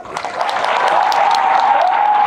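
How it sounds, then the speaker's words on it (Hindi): A crowd at a motivational fan meetup claps for itself, a brief, dense burst of applause that builds quickly and holds steady. "अपने लिए तालियां हो जाए यार"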